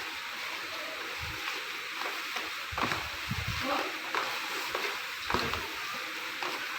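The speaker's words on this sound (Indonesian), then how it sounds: "Kemudian kita terus aduk sampai rata, sampai tercampur rata ya." Ingredients for a Palembang dish are stirred in a pan until evenly mixed. Intermittent soft scraping and thudding strokes come over a low background hiss, close but fairly quiet, with no clear talking.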